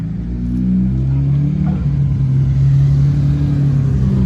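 A manual Toyota Supra with a 1km top-end street setup accelerates off the line, its engine droning loud and close with a rising, steady rumble throughout.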